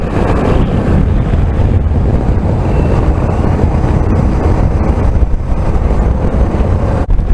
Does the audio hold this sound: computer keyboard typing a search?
no